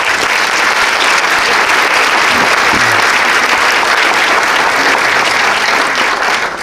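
Loud, sustained applause from a theatre audience at an opening night of a theatre festival, dense continuous clapping filling the hall close up.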